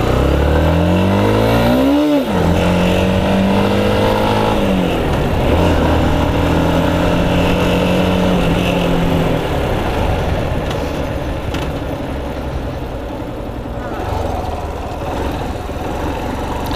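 A motorcycle on a first ride, its engine revving up and dropping as the rider downshifts, with rising and falling pitch sweeps and a sharp jerk early on, then steadier running.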